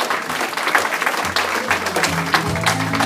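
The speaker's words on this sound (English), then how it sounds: "Huge round of applause for our newlyweds." Wedding guests applaud the newlyweds at a reception, a loud, continuous wash of many hands clapping at close range, with low music tones and a few cheers underneath.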